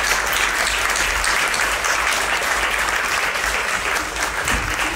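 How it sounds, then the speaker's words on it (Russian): A concert audience applauds jazz musicians as they are welcomed; sustained, evenly dense clapping fills the hall without pause and without voices over it. "Давайте встретим музыкантов аплодисментами."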